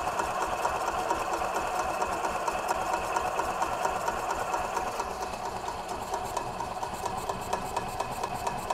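A gas engine on a 1993 Club Car DS golf cart runs with a steady, fast mechanical chatter while the throttle and choke are worked by hand after fuel line work. It sounds close and even throughout, with no talk.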